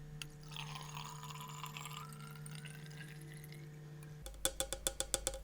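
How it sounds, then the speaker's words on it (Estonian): Water poured back from a bottle into a container in a science demonstration: a faint trickling pour with a rising pitch as the vessel fills, then a quick run of clear drips and glassy taps at the end. "Valame ta siia pudelist tagasi."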